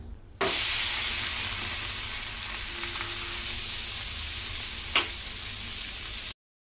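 Thalipeeth, a crisp fasting-style flatbread made from upwas bhajani flour, roasting on a hot pan, giving a steady close sizzle throughout with a couple of faint scrapes and one brief tap near the end, no voices.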